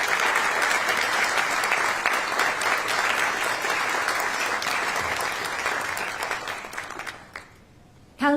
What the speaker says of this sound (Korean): 큰 박수 다시 한번 부탁드리겠습니다.